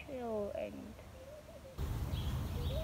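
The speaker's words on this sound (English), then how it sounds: "listen to the birds and" Birds chirp and whistle outdoors in short, faint calls against a background hiss, with a rising rumble partway through.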